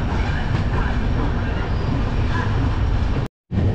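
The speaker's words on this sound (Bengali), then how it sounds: "সাঁতরাগাছি স্টেশন থেকে অলরেডি আমাদের ট্রেন ছেড়ে দিয়েছে" Dhauli Express rolling onward after leaving Santragachi station, a steady close rumble of wagons and track running loud throughout, cut briefly by a short drop near the end.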